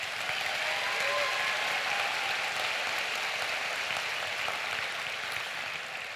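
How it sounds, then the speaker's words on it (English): Steady applause from a large audience at a high school graduation ceremony, a dense even wash of clapping that continues for several seconds and eases slightly at the end. "Let's give everybody a round of applause real quick."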